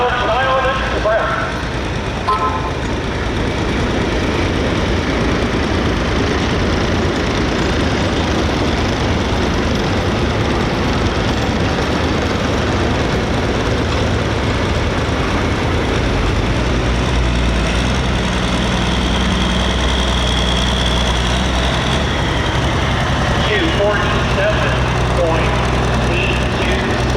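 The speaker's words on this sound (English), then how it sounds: "It's a John Deere 4960 alcohol superstock running" A John Deere 4960 alcohol super stock pulling tractor at an OSTPA pull in Ashland, Ohio runs with a loud, sustained low engine drone and rumble under a crowd and announcer's voice across the whole stretch.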